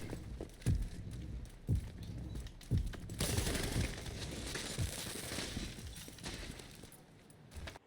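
Heavy weapon gunfire in The Division video game, with several spaced booming shots followed by a denser burst of impacts and debris noise, loud and unaccompanied by talk.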